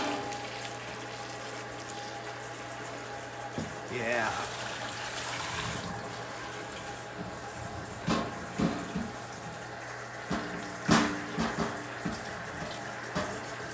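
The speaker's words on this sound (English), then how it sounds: "So I'm cleaning this out. I need to put water in it now." Water runs from a kitchen tap as a cooking pot is rinsed and filled, a steady gush with clinks of the pot, while a person talks over it during a cooking session.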